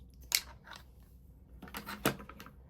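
Pinking shears snip through quilted sneaker fabric in two brief bursts, a single sharp crunching cut near the start followed by a quicker double snip, close and fairly quiet with no talk.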